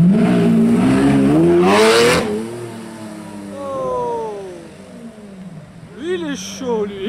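A Bugatti Chiron hypercar arrives on a street near Cannes, engine revving and rising in pitch, with a loud rushing burst before passing farther off; people talk over it throughout.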